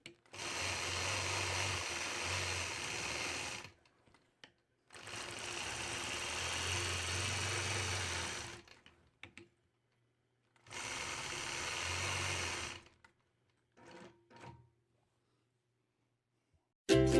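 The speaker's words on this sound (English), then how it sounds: "I'll complete the design by stitching the ditch all the way around the outside of the block" A quilting sewing machine stitches in the ditch around a crosswalk quilt block, running in three steady whirring bursts of a few seconds each, separated by pauses with light handling sounds, close and alone.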